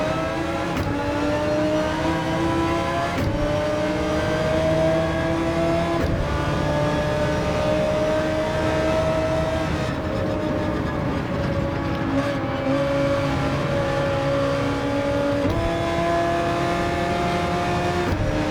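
A GT3 race car engine in the video game Gran Turismo 7 holds a loud, sustained high-RPM whine. Its pitch climbs and drops slightly across the run, with brief shifts between gears.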